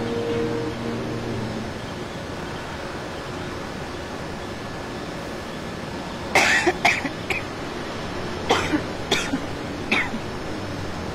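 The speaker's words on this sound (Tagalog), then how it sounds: "may ubo ka ba?" Several sharp coughs ring out over a steady indoor hum, a first cluster of three or four quick coughs followed by a few more spaced bursts, fairly close and loud.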